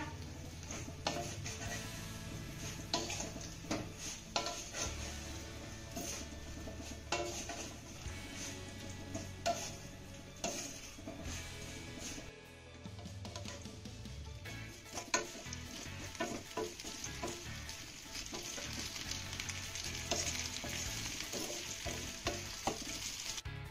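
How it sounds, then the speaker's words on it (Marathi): Sorghum flour vadis being stir-fried in a pan, producing a steady soft sizzle with frequent scraping and tapping stir strokes, close and fairly quiet, continuing unbroken for a long stretch. "आता ह्या वड्या आपल्याला 2 मिनिटं यामध्ये छान अशा परतून घ्यायच्या."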